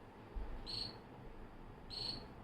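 Two bursts of high, shrill cricket chirping from a Raspberry Pi electronic cricket, about a second apart, electronic-sounding, over a quiet hiss, with a click at the end.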